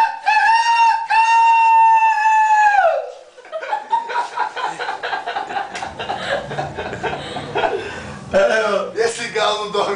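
A rooster gives one long, loud crow at a carnival, followed by people talking and laughing over one another close by.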